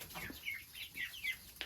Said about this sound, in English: So here we are inside the chicken coop.